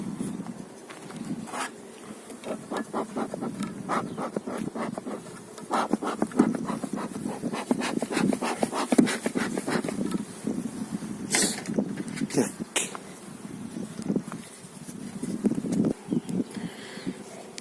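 Honeybees at an open hive during spring beekeeping work, a soft continuous buzz from many bees close by, broken by repeated handling taps and clicks from the hive frames throughout.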